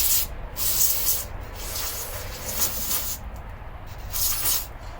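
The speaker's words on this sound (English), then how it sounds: "Go ahead and spray this guy out." Carb cleaner sprayed through a Yamaha Raptor carburetor: several bursts of aerosol hiss, rising and falling in short blasts close to the mic, with no talk.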